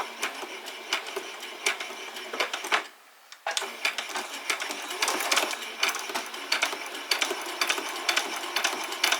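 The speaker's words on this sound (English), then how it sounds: "I did a little back stitch there." A sewing machine stitches the seam of a basic dress in rapid clattering bursts, stops briefly in the middle for a short backstitch, then starts again and runs steadily to the end.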